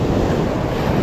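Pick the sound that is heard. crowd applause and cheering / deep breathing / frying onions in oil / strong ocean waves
strong ocean waves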